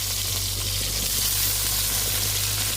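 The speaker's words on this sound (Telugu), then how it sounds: "ఉల్లిపాయ కూడా వేసేసుకొని బాగా ఫ్రై చేసేసుకోండి" Chopped onions sizzle in hot oil for a chicken curry, a steady close hiss of frying that goes on without a break.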